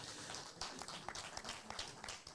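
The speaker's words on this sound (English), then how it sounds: "Let's give them a big round of applause" Quiet, distant-sounding applause from a crowd at an international boxing tournament weigh-in, a continuous patter of many hands clapping for about two seconds.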